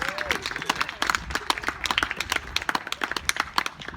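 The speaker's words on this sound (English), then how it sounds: "let's give her a hand clap" Audience at a block party storytelling event clapping by hand, a lively burst of many overlapping claps that stays steady and close throughout, with a voice faintly underneath.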